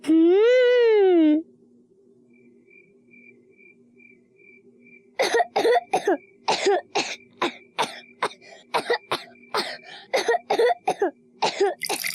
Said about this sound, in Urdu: آپ کو اچانک اتنی کھانسی کیوں ہونے لگی؟